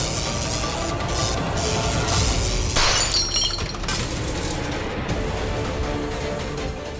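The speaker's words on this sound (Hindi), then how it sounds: "जल्दी से मेन स्विच बंद करो, शॉर्ट सर्किट हुआ है।" A sudden glass-like shatter and crackle from an electrical short circuit bursts out over a dense, steady background score, peaking sharply for about a second before the din settles back.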